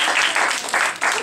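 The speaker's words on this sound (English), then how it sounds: "Do you hear some clapping?" An audience gives a short burst of light clapping at a children's magic show, a few seconds of scattered applause that swells and fades.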